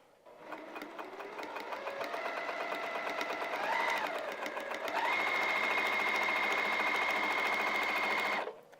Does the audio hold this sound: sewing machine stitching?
yes